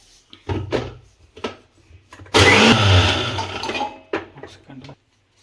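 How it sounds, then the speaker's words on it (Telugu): An electric mixer grinder whirs as it grinds sugar, one loud burst of roughly two seconds that winds down, with brief clicks and short bits of talk before and after. "మిక్సీ కొట్టేస్తాం చక్కెర"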